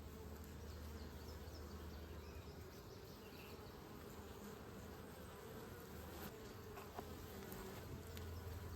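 Honey bees swarming around a fully capped honey super from a double nuc hive, a continuous faint buzzing hum with occasional closer passes, no voices.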